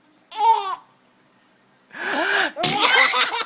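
A person's staged, exaggerated fake sneeze, a short breathy intake followed by a loud burst and a second forced sneeze, close and isolated with a gap between.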